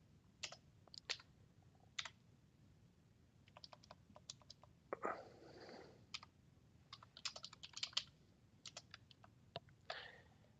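Keys clack on a computer keyboard in short irregular bursts of typing, close and fairly quiet, with pauses between words.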